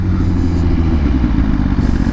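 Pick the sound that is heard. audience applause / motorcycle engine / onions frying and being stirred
motorcycle engine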